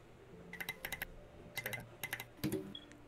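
Quick bursts of typing on a mechanical keyboard with SA keycaps and T1 switches, close clacky keystrokes in short clusters ending with a heavier thock, with no talking.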